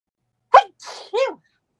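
A single sharp sneeze close by, followed by brief murmured voices.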